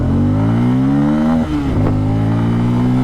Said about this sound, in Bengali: এবার চলুন অ্যাক্সেলারেশন টেস্টটাও করি, 0 to 100 0 to 60 কত এতে যায় দেখা যাক।